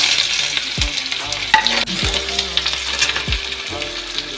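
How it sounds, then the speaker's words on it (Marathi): Steady crackling sizzle of onions frying in a hot kadhai, with occasional scraping clinks and knocks of a utensil stirring against the metal. "कढई तापत ठेवलेली आहे, याच्यामध्ये टाकत आहे कांदा।"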